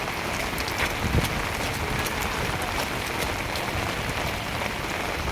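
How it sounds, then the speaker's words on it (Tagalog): Steady rain pours down continuously, a dense hiss of drops hitting a surface, with occasional louder patters and no voices. "Dahil umuulan."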